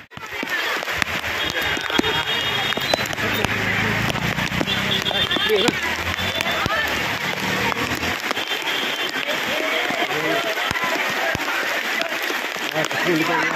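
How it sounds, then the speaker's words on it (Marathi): Dense, steady hiss of heavy rain pouring without a break, with scattered crackling hits and muffled voices in the background. "अशा पावसामध्ये धावपळ"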